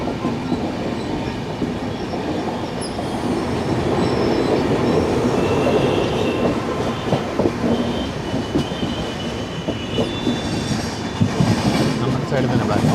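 Kerala Express pulling into Nellore station platform 2, a steady loud rumble of wheels on rail with faint clicking joints and occasional squeals, continuous throughout with no speech.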